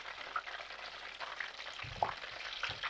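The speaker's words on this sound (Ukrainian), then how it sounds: "поки тут ще все смажиться" Oil sizzles and crackles steadily as breaded chicken fillet and young potato fries cook, with a few soft pops and a low clunk of a utensil stirring in the pan.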